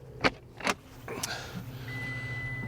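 Rear of a topper-style Four Wheel Camper on a 4th-gen Toyota Tacoma being opened, with two sharp latch clicks, a metallic clunk, then a steady hum and a faint whine as the hatch lifts.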